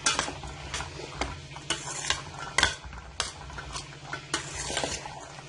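A spoon stirs chana chaat with salt and chaat masala in a bowl, giving repeated close scraping and clinking strokes in an uneven rhythm, fairly loud and alone.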